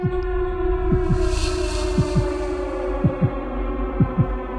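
Heartbeat in the horror video game MHV6: Child of Evil: steady paired thumps about once per second, close and moderately loud over a constant low droning hum, with no voices.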